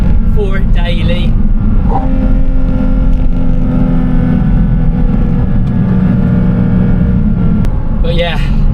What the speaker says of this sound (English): I've just up the revs, going through the gears.